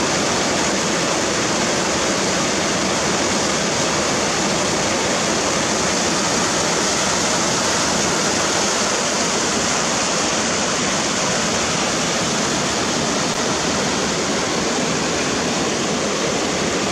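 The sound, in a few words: river water flowing, Rio das Escarias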